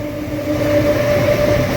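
A MEMU passenger train running from Bhimavaram to Vijayawada rumbles steadily from onboard, with a sustained motor whine over a low rolling drone.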